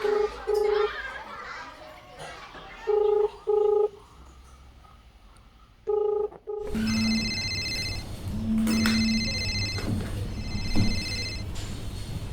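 Keypad tones of a telephone number being dialed sound as a few short, evenly spaced beeps in a quiet room, followed by a louder ringing tone pattern with background noise and some voices.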